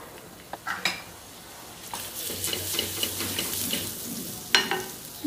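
Lablab beans fry in a small spoonful of oil with turmeric in a pan, a soft sizzle with a few sharp clinks and scrapes of a spoon stirring, fairly close and without talk.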